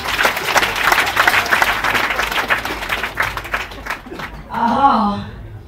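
An audience breaks into loud, dense applause that fills most of the moment, then fades as a voice rises over the end.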